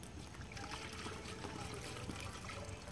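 Liquid grub control concentrate poured into a container, a steady trickling stream for a few seconds with no talk over it.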